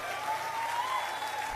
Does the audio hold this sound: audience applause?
yes